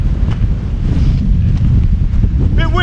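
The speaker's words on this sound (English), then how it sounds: "Bit windy." Strong wind buffets the microphone on an Isle of Wight coast, a loud continuous roar with rumbling gusts throughout and a faint voice near the end.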